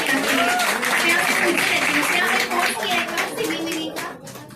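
Audience applause fills a hall at an institute anniversary ceremony as a singer named Sneha is congratulated; dense, steady clapping runs throughout, with voices faintly mixed in before it thins toward the end.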